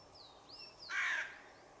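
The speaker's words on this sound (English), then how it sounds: "the distinctive caw of a crow" A single harsh crow caw rings out near the middle, fairly loud against quiet outdoor background with faint bird whistles before it.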